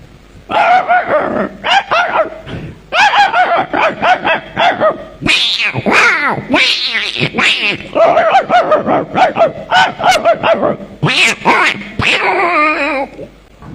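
A voice imitates a street dog, producing a rapid series of barks, yips and whimpers in close, loud bursts with short pauses between them.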